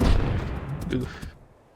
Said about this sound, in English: I'm gonna see if I can strafe any of those F-18s that are parked on the deck.